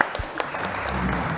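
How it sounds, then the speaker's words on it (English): Brief audience applause at a local area forum meeting, a short burst of clapping from a modest crowd heard over a low background rumble. "So a round of applause for you."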